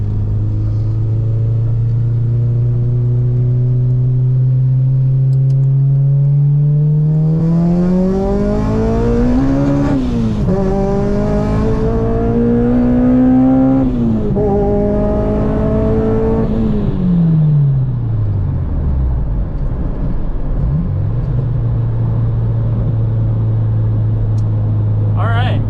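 A 350 whp widebody Acura RSX accelerates hard in a full pull, its loud engine note climbing through gear changes before dropping back to a steady low drone.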